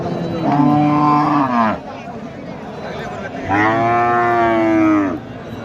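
A cow lets out two long, loud moos close by at a cattle market in Bogura, Bangladesh, separated by a short pause.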